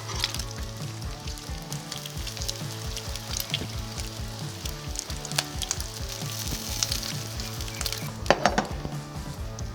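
Bacon pancakes frying on a 28-inch Blackstone Pro griddle, a steady close sizzle with scattered clinks and scrapes of a spatula on the hot steel, no voices.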